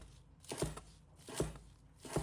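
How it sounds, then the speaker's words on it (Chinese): A knife chops garlic sprouts into short pieces on a board, three crisp, evenly spaced strikes about a second apart, close and clear with no talking. "把它切成小段。"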